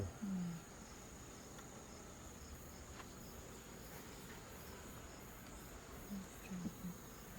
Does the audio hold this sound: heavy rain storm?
no